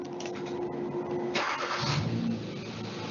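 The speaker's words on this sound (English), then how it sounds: "We'll fire up the engine." A car engine cranks briefly and catches, surging into a short rev before dropping back toward a lower steady run.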